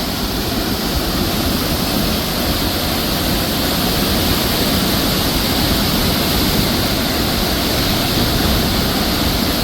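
Water gushes through the opened spillway gates of the Muthaiyankattu reservoir in a loud, steady, broadband roar that stays close and constant throughout, with no talk over it.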